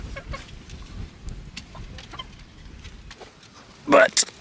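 Chickens and a rooster cluck softly in a chicken tractor holding about fifteen birds, a steady low murmur of fowl with a louder burst of calls near the end, faint voices in the background.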